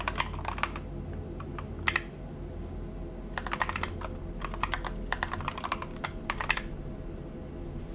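Typing on a computer keyboard, close up: quick bursts of crisp key clicks in uneven clusters with short pauses, over a steady low hum.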